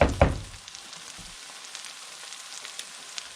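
Eggs drop into a pan of cooked-down garden vegetables with a brief loud sizzle at the start, then settle into a soft, steady frying crackle close by.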